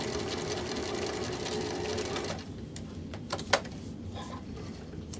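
A sewing machine stitches a placket, running steadily with a fast, even whirring hum for a couple of seconds before slowing to a quieter mechanical clatter with a few light ticks.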